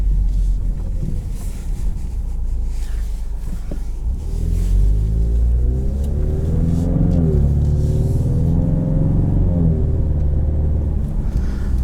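Engine and exhaust of a 2020 Ford Mustang EcoBoost automatic with performance exhaust, heard from inside the car on a bumpy road: a steady low rumble with rising revs and a shift, under road and wind noise.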